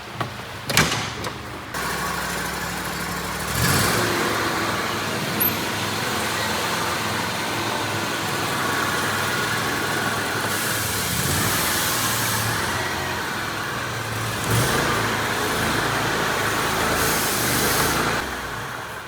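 A Scag mower engine runs steadily with the PTO engaged, a continuous mid-level drone, after a few clanks at the start and occasional swells in level, with no talking.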